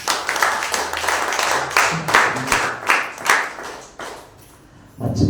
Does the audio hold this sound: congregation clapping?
yes